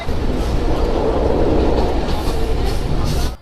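A train rolls between Faridpur and Bhanga with a loud, dense, continuous rumble and rattle of carriages heard from inside, steady throughout and then cutting off at the very end.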